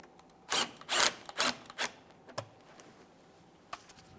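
A 10mm mounting bolt being snugged up on the engine splash shield of a 2008-2017 Mitsubishi Lancer 2.4L, heard as several short close ratcheting or rubbing bursts, then quieter scattered ticks.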